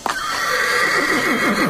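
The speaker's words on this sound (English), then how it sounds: "Horse." A horse gives one loud, close neigh that trembles and falls in pitch across the whole short burst, alone with no talking.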